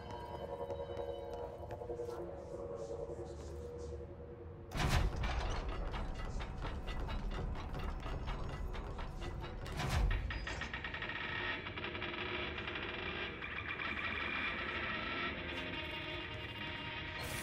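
In the video game Control, a radio gives off a whirring, ratcheting mechanical rattle with two heavy thuds along the way, steady and fairly quiet throughout.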